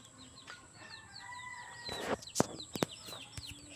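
Chickens in a backyard pen clucking and chirping in short repeated calls, with a few sharp knocks and rattles of the coop partway through, fairly close and moderately loud, no talk.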